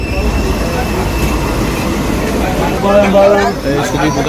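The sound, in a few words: old local passenger train running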